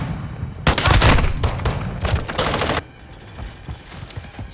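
Rapid, loud bursts of gunfire from a shotgun in a video game, firing in a dense volley for about two seconds before fading into quieter background game noise.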